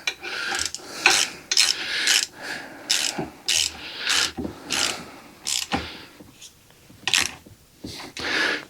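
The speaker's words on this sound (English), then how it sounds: "let me grab a Allen head and we'll tighten this thing down" A bolt is tightened with an Allen key in short, rasping turns, about a dozen quick ratcheting and scraping bursts with brief pauses between them, close by.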